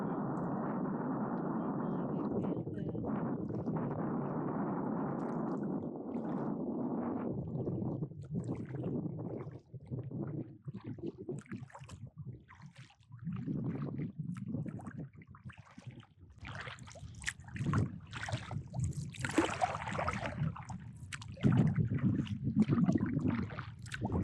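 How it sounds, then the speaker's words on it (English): Wind gusts across the Suwannee River during a kayak trip, a loud continuous rumbling roar buffeting the microphone, easing midway and then returning with rougher, more broken bursts. "Here's some of that wind I've been talking about."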